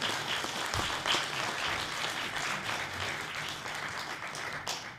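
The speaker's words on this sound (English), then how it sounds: "Let's all give them a round of applause." Community hall audience at a meet-the-candidates event applauding the candidates, a dense, sustained wash of clapping from many hands that carries evenly to the end.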